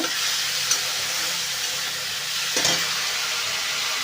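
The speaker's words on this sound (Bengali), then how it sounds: "এবার টমেটো আর কাঁচা লঙ্কাটা দিয়ে দেবো আমরা ভালো করে মশলাটা কষিয়ে" Masala frying and being stirred in a pan after tomato and green chilli go in, a steady close sizzle with brief scraping bursts around the middle and near the end, no voices.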